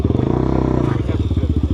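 A diesel motorcycle with a stock exhaust idles up close, giving a loud, rapid, even chugging pulse that briefly dips before thumping on.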